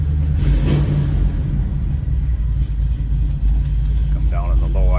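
A 1980 Chevrolet Camaro Z28 with a 4-speed manual and a mild cam revs loudly and rumbles steadily up close, its deep engine tone continuous throughout.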